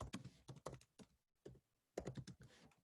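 Typing on a computer keyboard, clusters of close, crisp key taps in short bursts with a brief pause midway, no talking.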